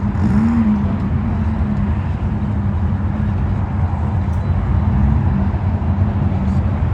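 Two drag racing cars, one a 1933 Ford and one a Pontiac, idle while moving up and staging at a midnight drag race during Hot August Nights 2023, giving a loud, steady low engine rumble with no break.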